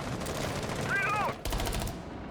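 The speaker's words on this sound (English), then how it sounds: "Lots of shots fired through the windows once again" Gunshots fired through windows during a Rainbow Six Siege match, steady close gunfire under a commentator's voice, with a brief electronic chirp and a sudden cut partway through.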